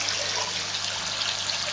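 Steady, continuous rush of water flowing through a protein skimmer and pipework on a 5,000 litre pond in a shed, a loud, even hiss with no pauses and no talking.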